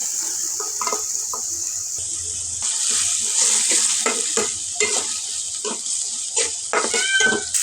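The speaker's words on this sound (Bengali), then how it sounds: "মশলাগুলো ভালো করে কষিয়ে নেব" Salted spices and chopped carrot sautéing in a pan, a steady sizzle broken by frequent stirring scrapes and clatters, close and fairly loud with no voice.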